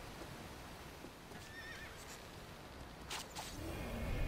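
Horse whinnying faintly in the video game Shadow of the Colossus, a short high neigh over steady game ambience and wind-like noise, with no talking.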